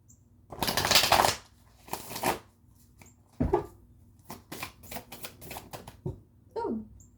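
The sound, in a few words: shuffling a tarot card deck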